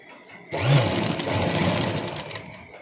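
A sewing machine stitching a blouse, a short burst of motor whir and rapid needle chatter starting abruptly and running steadily for about two seconds, close and moderately quiet.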